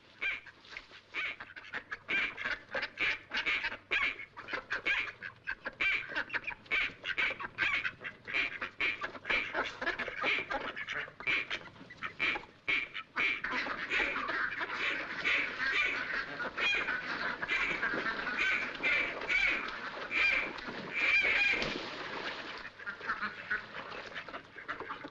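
A flock of ducks quacks and honks continuously for about 25 seconds in a comedy short, a dense, busy chorus of nasal calls that stays steady and fairly close.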